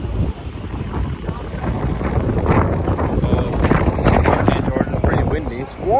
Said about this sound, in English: It's warm enough, but it's pretty windy.